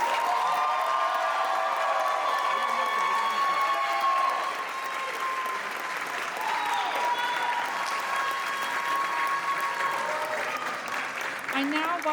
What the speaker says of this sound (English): please give me a round of applause for Dan Gonzalez.